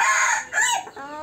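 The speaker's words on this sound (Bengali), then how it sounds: "এটা মোরগ" A rooster on a poultry farm crows once, close and loud, a single long strained call that fills the whole short moment, with no talking.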